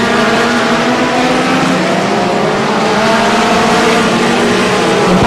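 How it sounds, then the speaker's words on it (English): F2 stock cars race past on the Swindon track, a loud, continuous engine roar and rumble filling the air with no break. "the lead driver coming through once again, 121 Lee Gunchard"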